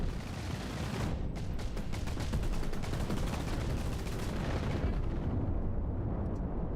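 Spaceship chain guns in Cosmoteer hammer out a rapid, dense stream of shots, a loud continuous roar of automatic fire with distinct rattling bursts through the middle before it thins out.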